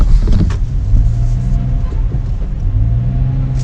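A car drives steadily with a low engine rumble and road noise, slowing as it nears a KFC parking area on a road trip to Kolaghat; no talk is heard.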